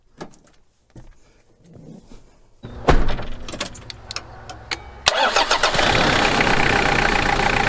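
A car, boosted by a portable jump starter, goes from quiet clicks and a door thunk to a cranking engine that catches and fires, then settles into a loud, steady idle close by.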